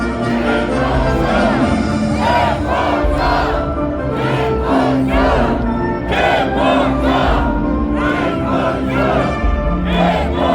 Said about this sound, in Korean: 김문수를 외쳐주십시오.